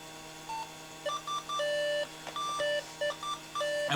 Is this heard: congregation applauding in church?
no